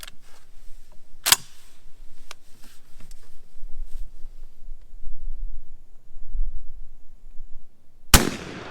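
Two loud, sharp blasts from a Winchester SX4 shotgun firing Winchester 3-inch 3-shot shells outdoors, with a few fainter clicks between them over low background noise.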